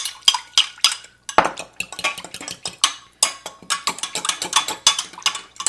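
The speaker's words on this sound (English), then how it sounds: "I'm just whisking that all up." A whisk clatters rapidly against a bowl while an orange juice, tahini, rice vinegar and sesame oil dressing is mixed, with quick bright metallic taps in irregular bursts and brief pauses.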